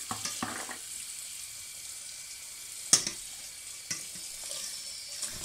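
Spinach leaves washed under a running kitchen tap in vinegar water, a steady hiss of flowing water with occasional splashes and clatters in a sink, no voices.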